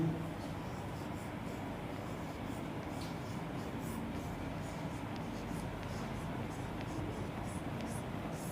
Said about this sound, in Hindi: और दूसरा नोट मैं ये लिख रहा हूँ